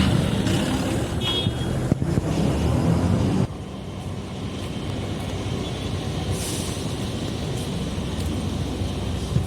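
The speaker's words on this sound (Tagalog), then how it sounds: "kaya malimit traffic tong lugar na to" Early-morning road traffic on a busy Dubai street with school buses: a continuous, loud rumble of engines and tyres, with a few hissing and squealing bursts, and no talk.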